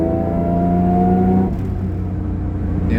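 Supercharged Mitsubishi 3000GT engine running at about 3 pounds of boost, a loud, steady drone that shifts in pitch partway through as the car accelerates.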